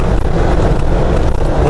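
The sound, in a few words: engine as 6L80 transmission drops 3 or 4 gears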